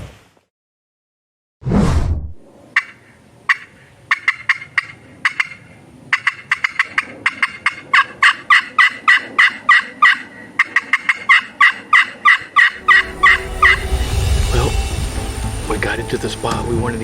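A wild turkey gobbles in open terrain during a spring hunt, a strong burst followed by a long run of rapid, rhythmic gobbling notes. The bird is loud and close, with rustling and wind rising toward the end.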